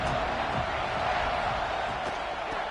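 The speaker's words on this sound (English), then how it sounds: "This crowd knows this defense needs them right now." Football stadium crowd at a Tigers game, a dense, steady roar of many voices filling the whole stretch at an even, loud level with no break.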